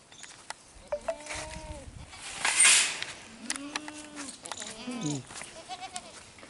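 Goats bleat repeatedly inside a goat farm shed that also keeps cows and buffalo, several wavering calls near and far overlapping, with someone speaking intermittently between and under them.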